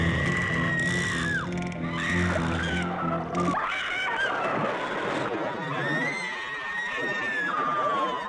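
Overdubbed women's screams from the 1977 film Planet of Dinosaurs, shrill, exaggerated wails rising and sliding over music and rumbling effects, loud and continuous across the scene.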